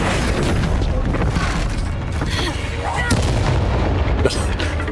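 A Bombarda spell in Hogwarts Legacy sets off loud, dense booming blasts during combat, with rumbling and scattered impacts throughout and a voice faintly under the noise.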